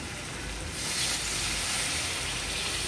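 Half a cup of water hits a hot pan of desi corn curry, bursting into a loud, steady hiss of sizzling steam that jumps up abruptly and holds for a few seconds.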